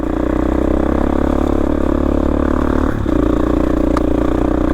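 A 4-stroke dirt bike ridden along a single track trail in a remote Rocky Mountain canyon: a loud, steady engine drone, near and continuous, with a brief dip around the third second before the motor picks back up.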